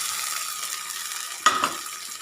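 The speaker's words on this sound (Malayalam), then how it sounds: "നമ്മൾ പിഴിഞ്ഞ് അരിച്ച് മാറ്റി വെച്ചിരിക്കുന്ന വാളംപുളിയുടെ വെള്ളം ചേർത്ത് കൊടുക്കാം" Frying onions in a pan sizzle softly, then tamarind water goes in and is stirred with a brief scrape of the spoon, and the sizzle lifts for a moment.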